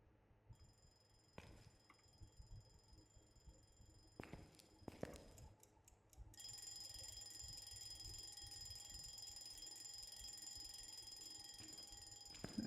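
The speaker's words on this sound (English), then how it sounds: "there's an alarm clock going off somewhere" A distant alarm clock rings somewhere in a large haunted house in Phasmophobia, a steady electronic ringing that starts partway through after scattered thumps and carries on unbroken, faint and far off.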